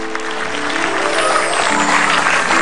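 A studio audience on an Indonesian comedy talk show claps for Desta, loud, full applause filling the room throughout, with music or voices faintly underneath.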